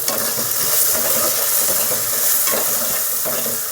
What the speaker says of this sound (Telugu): ఈ జింజర్ గార్లిక్ పేస్ట్ బాగా ఫ్రై అవ్వాలి